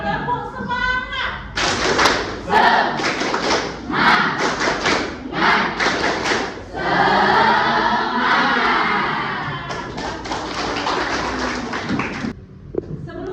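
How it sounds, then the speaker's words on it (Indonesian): Classroom of children performing the rhythmic tepuk semangat clap chant led by a teacher: bursts of sharp group claps in patterned rhythm, interleaved with chanted voices and a sustained shout mid-way. "Kita akan tepuk semangat supaya kalian lebih semangat lagi"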